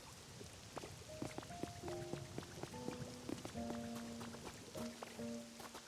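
Rain falling in the Pokemon Pokopia video game, a steady patter of drops spread across the whole stretch, with game music tones playing over it.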